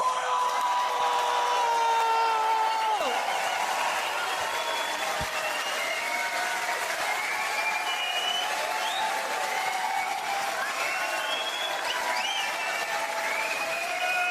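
Theater crowd at a Glasgow stand-up comedy show roars with sustained applause, cheering and whoops, loud and continuous throughout.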